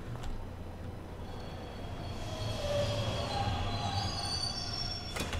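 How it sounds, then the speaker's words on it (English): A train arrives in the horror video game Bendy and the Dark Revival, a steady rumbling roll with faint squealing wheels rising slightly in loudness, heard alone without talk. "Okay, here comes the train."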